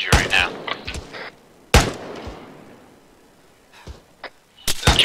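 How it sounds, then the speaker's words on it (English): Gunfire in a military video game during a firefight against an advancing army: sharp bursts of shots cluster at the start, one loud report near the two-second mark, then scattered distant pops and another volley at the end. "There's too much gunfire."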